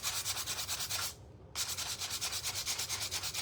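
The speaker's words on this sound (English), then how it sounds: "I'm just kind of rough scuffing this so that I can get some good paint coverage and get that price tag off" Rough scuffing on an old hand garden rake before painting, a fast rhythmic rasping rub, close and fairly quiet, with one brief pause partway through.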